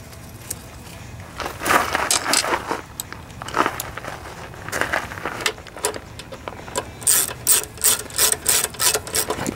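A hand ratchet tightening screws into a Briggs and Stratton lawnmower automatic choke carburetor, close up, with bursts of rapid clicking strokes separated by brief pauses and small metallic handling noises.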